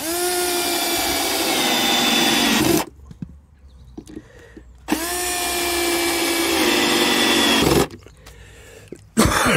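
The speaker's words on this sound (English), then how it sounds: "all we need to do is fire the screws in then to the countersunk holes" A power drill drives screws into countersunk holes in two long, loud whirring runs separated by a quieter pause, followed by a short final burst.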